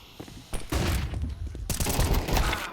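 Rapid gunfire from a Counter-Strike esports match at IEM Sydney 2023, loud bursts and sustained volleys throughout with a sharp burst of shots near the end, under excited commentator speech.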